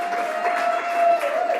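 Applause from the audience at a panel discussion event, a moderate, steady patter of clapping hands heard alongside a sustained tonal hum, continuing evenly without speech.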